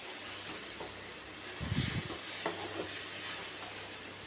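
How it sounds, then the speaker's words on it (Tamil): Soft sizzling and hiss of tomato, onion and chilli powder sautéing in a pan, with occasional stirring scrapes and clatter, fairly quiet. "மிளகாத்தூளோட பச்சை வாசம் போகிற அளவுக்கு அதையும் சேர்த்து நல்லா வதக்கணும்"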